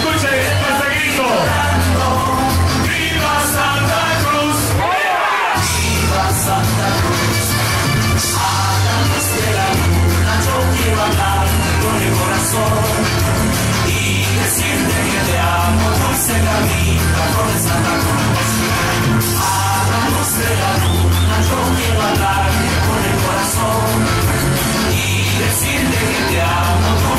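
At a carnival karaoke event celebrating Santa Cruz, a crowd yells and cheers loudly and continuously over dense, pounding music, with no clear pause throughout.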